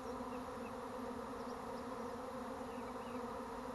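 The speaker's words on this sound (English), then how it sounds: "I'm sure you can hear the bees over the video." A dense, continuous buzzing of many bees fills the air, steady and enveloping without pause, like a swarm hovering nearby.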